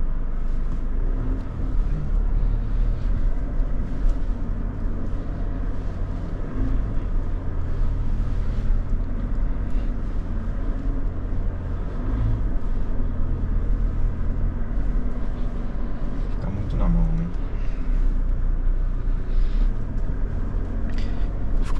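A Mitsubishi L200 Triton pickup descends off-road slopes in first gear under engine braking, producing a loud, continuous low engine rumble with some wind buffeting and no speech.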